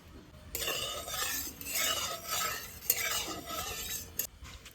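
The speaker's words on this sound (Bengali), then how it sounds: "মাছের ঝোল করার জন্য কড়াই গরম হয়ে গেছে তেল দিয়ে দেবো" Oil poured into a hot wok for a fish curry bursts into a bright hiss that swells and fades, with spoon scrapes and a light clink partway through, close by and without speech.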